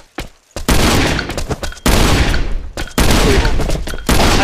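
Shotgun blasts in the mobile survival game Last Island of Survival come as several loud, close bursts of gunfire separated by brief gaps, with sharp onsets and heavy crackling decay. No speech is heard.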